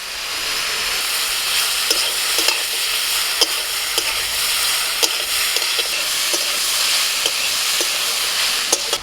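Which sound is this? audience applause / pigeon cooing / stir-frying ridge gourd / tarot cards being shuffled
stir-frying ridge gourd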